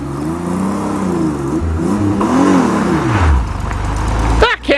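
A Pontiac Fiero V6 engine revs while driving, its pitch rising and falling through several loud, close sweeps before dropping off, with a brief flurry of quick higher-pitched bursts at the end.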